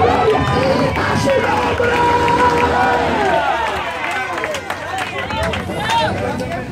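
Church congregation at an evangelical service applauding, a loud dense wash of clapping and cheering that fades slightly while a preacher speaks over it.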